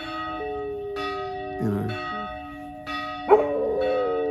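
A mechanically operated church bell tolls again and again in a steady, ringing rhythm, its sustained tones overlapping, while a dog barks briefly and a person says a couple of words.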